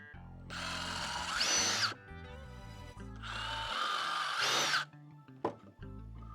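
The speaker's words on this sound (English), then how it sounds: "watch your fingers, and you're gonna drill it in like this" A cordless power drill drives screws into a wooden planter box in two loud bursts of whirring, each ending with a rising pitch, separated by brief pauses and light handling clatter.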